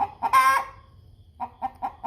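An American Bresse pullet clucks nearby, giving a louder squawking call followed by a run of short, evenly spaced clucks, with no people talking.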